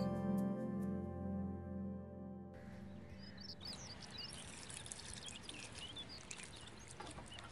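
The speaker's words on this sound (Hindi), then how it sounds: "मैंने सोचा पानी दे दूं" Water is poured onto yellowing potted plants while watering them, a soft splashing trickle that follows a low tonal hum, with faint bird chirps in the background.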